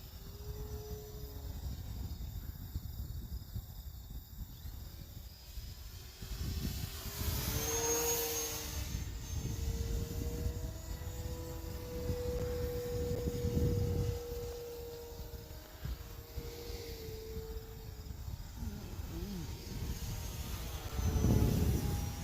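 An E-flite Turbo Timber Evolution RC airplane's electric motor whines overhead, its pitch rising and falling as it passes in knife-edge flight, moderately faint, with insects chirping in the background.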